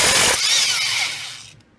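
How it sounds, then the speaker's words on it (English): A corded impact wrench on a puller hammers at the flywheel of a Polaris Trail Boss ATV in a brief, harsh mechanical burst, then fades within two seconds. It is close and there is no talk. "With your puller on and the impact plugged in, hit it till it pops off."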